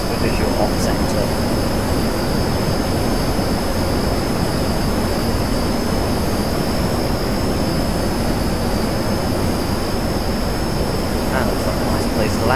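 Steady broadband roar of an English Electric Canberra jet engine in a flight simulator, loud and continuous throughout with a faint high whine on top, no voices over it.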